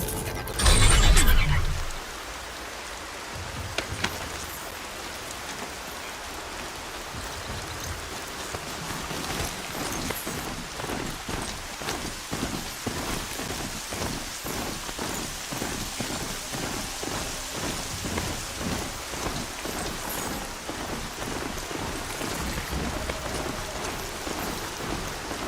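Steady rain hisses throughout a stormy scene in the game Horizon Zero Dawn, with a loud rumbling burst of thunder near the start, then continuous dense patter and low rolling rumbles.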